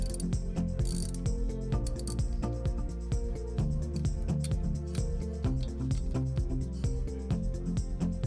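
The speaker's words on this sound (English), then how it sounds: "Remove the brake housing bolts." A ratchet clicks rapidly and repeatedly while removing brake housing bolts on a Ford Fusion. The dense mechanical clicking runs continuously at close range over a background music bed, with no talking.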